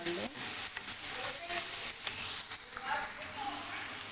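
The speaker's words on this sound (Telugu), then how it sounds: "కలుపుకొని ఒక రెండు నిమిషాలు అయితే ఇలా వేగనిద్దాం" Chopped onions and moong dal sauté in a hot pan, a soft steady sizzle with occasional scraping stirs, quiet and close.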